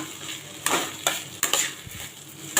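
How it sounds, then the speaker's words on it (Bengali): Rice for pulao is stirred and fried in a pan, with a soft steady sizzle broken by several sharp scrapes and knocks of the spoon against the pan. "তো চালটাকে ভালো করে ভাজা ভাজা করে নেবেন।"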